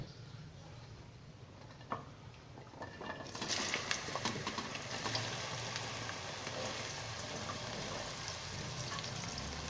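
Okra sizzles in hot oil with red chili, salt, turmeric and cumin. Quiet at first, the frying jumps into a steady, crackling hiss about a third of the way in and continues close and even.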